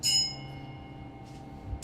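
During a stage performance of Macbeth, a bell strikes twice, once at the start and again at the end, each stroke bright and ringing. A low hum runs between the strokes.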